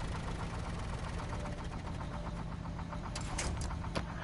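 A GMC Brigadier truck engine runs at a steady idle with a rough, knocking rumble, close and continuous, with a few faint clanks near the end.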